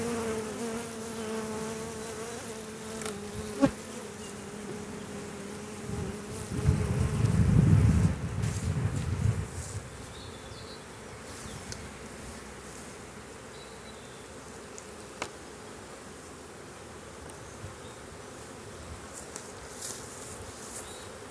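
Honeybees buzzing steadily around tall stacked beehives outdoors during a honey flow, a dense continuous hum with a louder close pass partway through and no talk.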